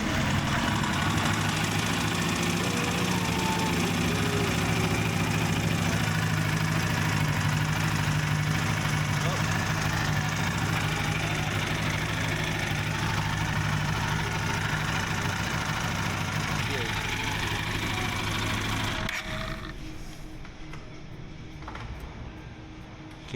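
An Aprilia RSV4 motorcycle engine idling with a coolant leak, a steady close mechanical rumble for about nineteen seconds before it cuts off to quieter background noise.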